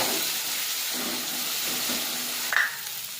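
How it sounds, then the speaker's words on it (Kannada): Curry leaves and tomato frying in a pan while being stirred, a steady close sizzle and hiss with soft scraping stirs and a brief louder clatter near the end. "ಫ್ರೈ ಆದಮೇಲೆ ಕರಿಬೇವು ಸೊಪ್ಪು, ಟೊಮೆಟೊ ಚೆನ್ನಾಗಿ ಮಿಕ್ಸ್ ಮಾಡಿಕೊಳ್ಳಿ."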